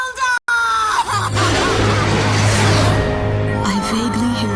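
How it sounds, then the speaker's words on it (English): Distant scream of terror in an Ace Combat 6 cutscene, a rising wail amid a loud, dense roar of fire and chaos over a burning city, with a steady low hum underneath. "I vaguely hear a scream of terror that sounds much like my own voice from afar"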